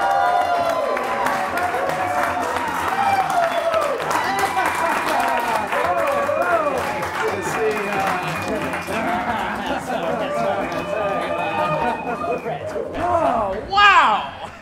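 A studio audience breaks into applause and cheering to welcome the former Rancor trainer Malakili onto an interview show, a dense sustained clapping with crowd whoops and chatter, swelling briefly at the end.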